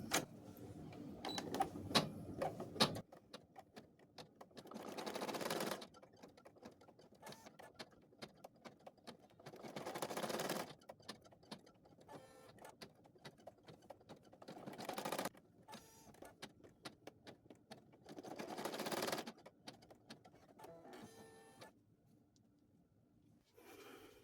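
Embroidery-style sewing machine stitching out hair for a cloth doll, bursts of rapid mechanical needle chatter and whirring separated by short pauses and louder thread-trimming buzzes, close and clear with no talking.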